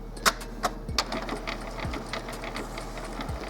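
An Epson XP-2100 printer running a print head cleaning cycle gives a few faint mechanical clicks and ticks near the start, then a quiet low hum with soft intermittent knocks.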